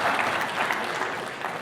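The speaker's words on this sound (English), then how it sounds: "you clap for that village" Audience applause for a speaker praising his home village of Ugarama in Uganda, a dense, steady wash of many hands clapping throughout, fairly loud and continuous with no talk over it.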